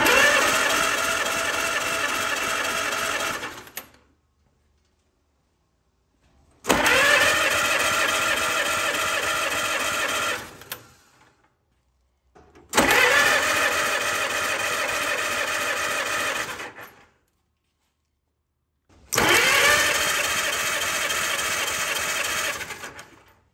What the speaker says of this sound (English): so now we'll get a cold start. We'll let the engine run for a while, get warm